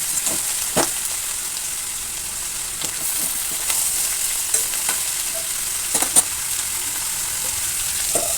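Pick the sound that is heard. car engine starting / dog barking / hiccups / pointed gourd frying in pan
pointed gourd frying in pan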